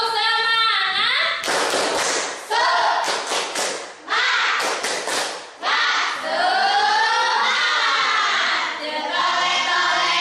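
A classroom of pupils doing a rhythmic 'tepuk semangat' clapping chant, loud bursts of group claps in patterned beats mixed with children's voices chanting along throughout.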